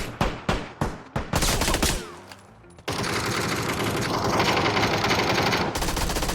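Rapid bursts of gunfire in PUBG, a few sharp separate shots followed by sustained automatic fire, loud and close.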